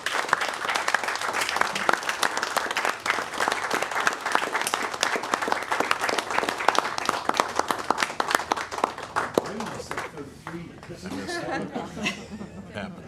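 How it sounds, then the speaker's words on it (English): An audience at a Brainerd city council meeting gives a long round of applause for a retiring city employee. Dense, loud clapping mixes with chatter and light laughter, then tapers off near the end as talking takes over. "if everyone can just give a round of applause for this great individual"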